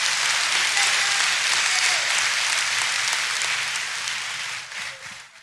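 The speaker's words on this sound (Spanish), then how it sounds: "Dale un aplauso al Señor." A church congregation breaks into loud, sustained applause for the Lord, a dense wash of clapping that holds steady and then tapers off toward the end.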